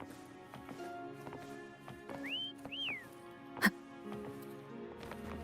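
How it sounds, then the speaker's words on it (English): Whistling in the Wuthering Waves video game: two short rising and falling whistle notes, fairly close, over quiet game music and scattered footstep-like clicks. "Try whistling."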